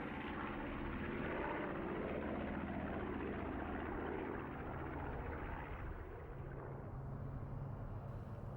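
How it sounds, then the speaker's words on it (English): A twin-engined B-25 bomber drones overhead at an airshow, its engines making a sustained rumbling roar that slowly shifts in pitch as it passes. "The B-25 perhaps most famous for an extraordinary raid carried out by 16 of them, led by Lieutenant Colonel Jimmy Doolittle,"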